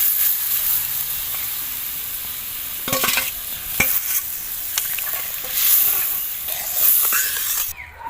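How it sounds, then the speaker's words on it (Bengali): Boiled mung dal goes into a pan of ginger frying in oil, setting off a steady, close sizzle with scraping stir strokes and brief louder bursts, with no talk. "তো এর মধ্যে এবার আমি সিদ্ধ করে রাখা ডালটা দিয়ে দেব।"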